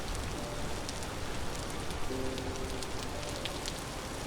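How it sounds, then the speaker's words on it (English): Steady rain in the game Vintage Story patters across the whole stretch, a dense hiss of drops with occasional brighter ticks, continuous and fairly close, with no voices. "Rain is almost all the time."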